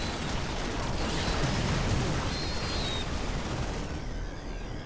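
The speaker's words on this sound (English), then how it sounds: "That's the sound of a lot of dead roaches." A dense, continuous wash of battle noise from StarCraft 2: Legacy of the Void, with masses of Zerg roaches dying at once amid crackling bursts and rumbling impacts, loud and steady throughout with no talking.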